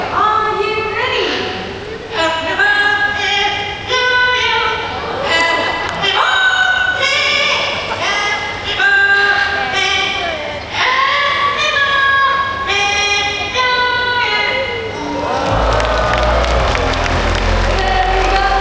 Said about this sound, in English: There we go, birthday song by Amigo, and I must say that was pretty amazing, right?